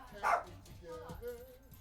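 A dog barks in short, bright bursts with a few yips, close by and moderately loud, while a person talks over and between the barks.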